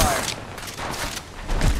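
Gunfire in Apex Legends Mobile, a dense burst of rapid shots filling the short moment with loud, continuous crackling.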